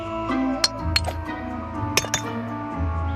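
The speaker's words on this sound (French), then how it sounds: "il n'y a qu'à faire chauffer la marmite." A cooking pot is set to heat in a camp with food and shelter, giving a few sharp, ringing clinks at irregular moments over a steady low background, with no voices.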